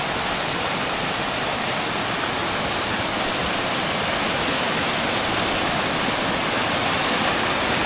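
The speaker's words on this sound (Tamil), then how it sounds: "அடுத்த நீரோடை நீரோடைகளாக வந்துகிட்டே இருக்குது" A mountain stream rushes over rocks on a forest trek in the Agasthyamalai hills, a steady, loud, unbroken wash of flowing water with no other sounds.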